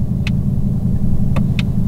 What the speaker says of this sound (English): I just wanna play with active exhaust.